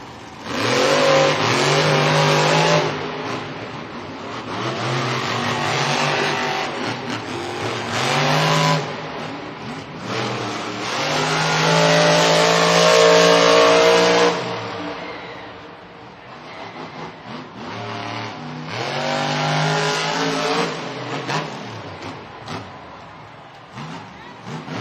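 Monster trucks racing head to head in a stadium at a Monster Jam event in New Orleans, loud roaring engines surging and revving in waves with crowd noise, a commentator's voice faintly mixed in.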